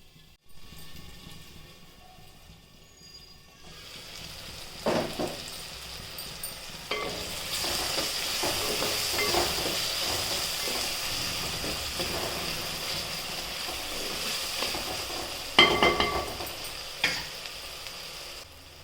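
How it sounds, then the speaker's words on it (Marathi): Vegetables fry in hot oil in a pan for a flower-vegetable dish, giving a steady sizzle that builds up, with scraping stir strokes and occasional louder clatters of the spoon against the pan. "थोडं वाफळून द्यायचं म्हणजे छान असा शिजन"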